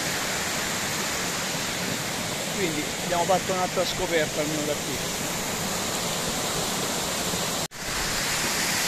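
Infernaccio waterfall in a gorge, a steady loud roar of rushing water close by, with a person talking briefly over it.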